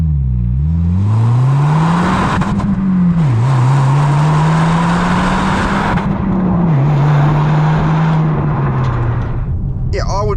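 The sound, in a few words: car sports exhaust engine sound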